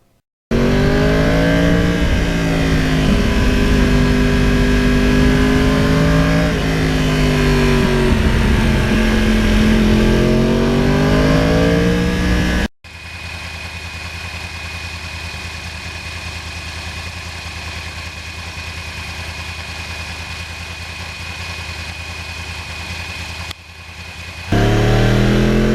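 A Yamaha R1 crossplane motorcycle being ridden gives a loud, close engine drone whose pitch rises and falls. It then cuts to a quieter, steady rushing hum for the rest of the ride.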